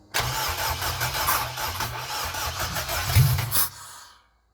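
A Honda Civic EJ9 with a swapped-in K-series engine cranks and fires for the first time, catching into a rough, loud, uneven idle with pulsing revs before cutting off abruptly.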